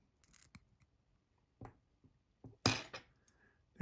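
Scissors cut excess possum hair while tying an Undertaker fly, with small metallic clicks then a couple of sharp, close snips, the last one loudest, in a quiet room.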